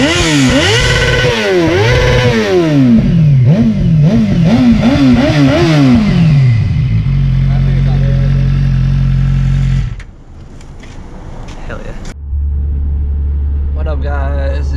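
Suzuki GSX-R 600 K9 motorcycle exhaust revving up close: a series of loud, sharp rises and falls in pitch, then the engine settles into a deep, steady idle that briefly drops away before resuming.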